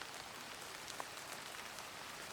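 Rain falls as a soft, steady hiss with light patter, faint and unbroken, and no voices can be heard.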